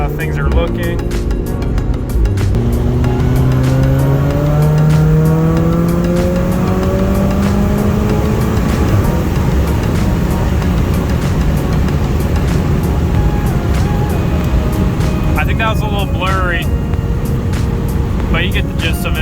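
A VW/Audi car pulls hard through fourth gear on a street in Mexico with an upgraded stock-location intercooler, engine note climbing steadily and loudly under a continuous roar, with faint chirps later on.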